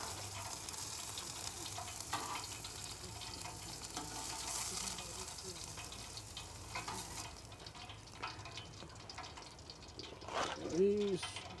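Fries deep frying in oil on a flat-top griddle give off a steady bubbling sizzle with soft stirring and dripping sounds, close and continuous, with a brief sharp clatter near the end.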